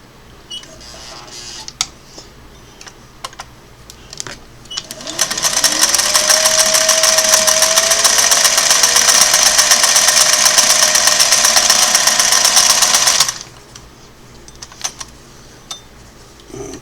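A restored Singer Model 404 sewing machine stitches light fabric, a steady, loud, rapid whirring chatter that runs for about eight seconds and then stops, with faint handling clicks before and after.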